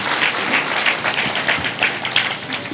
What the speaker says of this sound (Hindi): आइए हम उनको ताली द्वारा स्वागत करें।